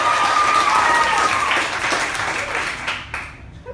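Audience applause at an improv comedy show, a dense close wash of clapping with some crowd noise, sustained throughout and thinning slightly toward the end.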